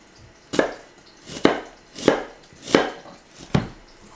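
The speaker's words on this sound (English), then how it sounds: "I have 1 onion, and I'm going to just chop that very finely" A knife chopping an onion finely on a cutting board: five distinct, evenly spaced chops, close and crisp, with quiet pauses between them and no voices.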